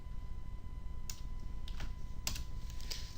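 A few quick computer keyboard keystrokes click in short separate bursts over a steady background hum, with no talking.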